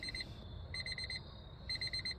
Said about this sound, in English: excuse the beeping.